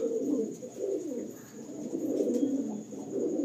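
A pair of Pilanka flying pigeons coo continuously nearby, overlapping low burbling calls that swell and dip in several rounds, unaccompanied by speech.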